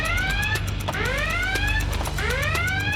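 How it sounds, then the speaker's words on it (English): A high water level alarm wails in loud repeating electronic sweeps, each tone rising in pitch and then restarting, about three cycles in close succession over a low background rumble. "when he hears the high water level alarm"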